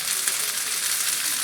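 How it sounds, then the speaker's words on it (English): Food frying in a pan gives off a steady, close sizzle, with broadband crackling hiss held at an even level throughout and no voices. "You can hear it sizzling."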